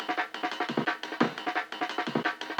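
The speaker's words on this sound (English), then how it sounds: "And there is the Amen break." The Amen drum break, layered into a liquid drum and bass track, plays its busy, syncopated groove of punchy snares and kicks, quiet and close, with no talking.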